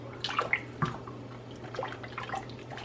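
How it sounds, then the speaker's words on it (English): A pot of water for Portuguese caldo verde soup nearing a boil gives off scattered soft bubbling pops and drips over a steady low hum, quiet and close. "Look, it's almost at a boil."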